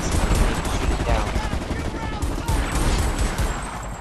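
Sustained automatic gunfire in the video game Homefront: The Revolution, loud and dense over four seconds with crackling bursts and a constant battle din.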